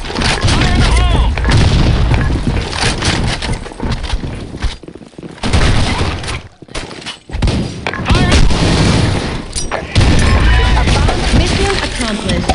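Loud booming explosions and heavy gunfire fill a clan-war battle in the BlackShot shooter game, with repeated dense blasts, brief lulls and shouted voices under the noise.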